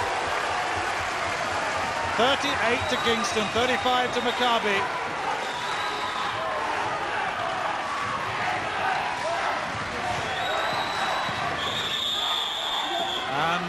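Basketball arena crowd at a 1985 FIBA European Champions Cup game between Kingston and Maccabi, cheering loudly and steadily after a three-point shot, with whistles and a commentator talking over the roar.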